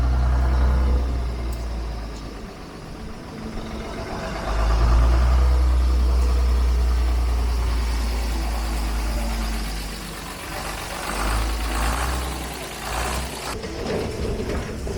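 An old RT bus chassis engine running under its own power, a steady, deep diesel rumble at idle that swells louder for a few seconds and then settles back.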